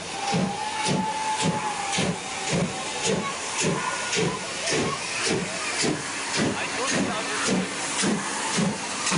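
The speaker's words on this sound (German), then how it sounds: "Es ist die letzte, 1959 bei der Bundesbahn in Dienst gestellte Dampflok." Steam locomotive 23105, the last steam engine commissioned by the Bundesbahn in 1959, hissing at a museum locomotive parade in Nuremberg: a loud continuous steam hiss with a regular chuffing pulse throughout, and a voice talking over it.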